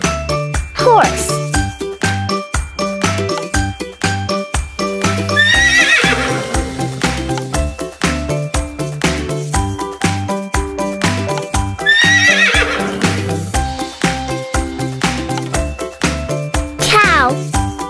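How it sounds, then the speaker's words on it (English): A horse whinnies several times over steady clip-clopping hooves, with a cheerful jingling melody playing throughout. "Horse."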